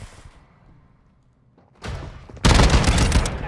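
Heavy sustained gunfire in a Call of Duty match with an MX Guardian shotgun in play, quiet at first, then a loud burst joining near 1.8 s and an even denser, louder barrage of rapid shots from about 2.4 s onward.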